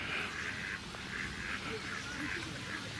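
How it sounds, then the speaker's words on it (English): Ducks quacking in repeated short bursts at moderate distance, over steady outdoor background noise, at a lake pond in Portishead. "And more ducks in the next pond as well."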